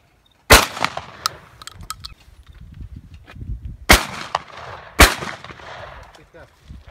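Perazzi shotgun fired at clay targets outdoors, three loud, sharp blasts spaced a few seconds apart, each with a short echoing tail, while people talk quietly between shots.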